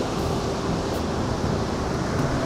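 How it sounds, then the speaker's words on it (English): Ocean waves wash steadily onto a beach, a constant broadband surf roar mixed with wind, loud and unbroken, with no speech over it. "Hear the waves in the background."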